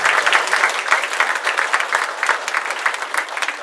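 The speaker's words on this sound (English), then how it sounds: "Can we have a round of applause for" An audience at an all-candidates meeting in Brighton bursts into applause, a dense, loud wash of clapping sustained throughout.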